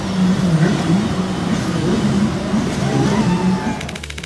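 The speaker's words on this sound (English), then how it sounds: "Angry tow truck." A tow truck drives along a city street, its engine running loud and steady with a low rumble and some revving close by.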